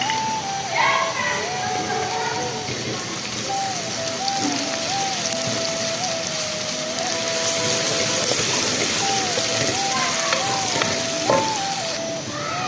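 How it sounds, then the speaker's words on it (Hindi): Garlic sizzling in hot oil in a pan, a steady, fairly loud crackle throughout, with a voice and children's chatter heard over it. "अब मैं लहसुन ऐड कर दूँगी"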